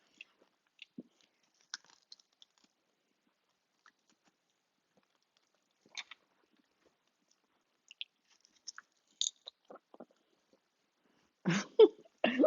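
Close, crisp crunching bites come in scattered, irregular bursts, someone chewing crunchy Vietnamese air-fried chicken wings in near silence, louder toward the end.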